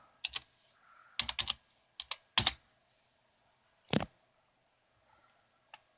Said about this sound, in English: Now, I'm going to type hello.